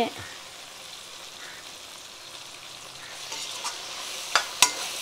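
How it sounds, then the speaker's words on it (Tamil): Tomato and onion sautéing in a pan, a quiet steady sizzle that picks up toward the end with a few sharp spoon clinks against the pan. "நல்லா தக்காளி வெங்காயம்லாம் நல்லா வதங்கிடுச்சு"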